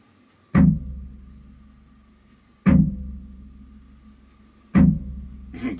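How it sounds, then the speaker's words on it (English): Bass drum kicked with a pedal whose beater rebounds off the head, three evenly spaced open, resonant booms about two seconds apart, each sustaining and fading, heard up close without talking. "That's the sound of the drum when I do rebound the beater"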